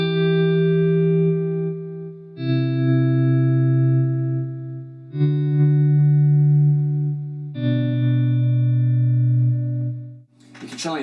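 Ambient electric guitar chords swell in slowly through a volume pedal, with delay and reverb pedals, four sustained swells in a row, each fading into a ringing delay tail, alone without talk.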